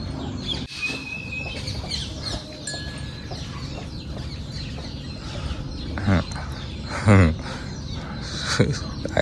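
Chickens cluck on a farm among livestock, with sporadic clucks and short calls scattered through the clip, and someone speaks over them.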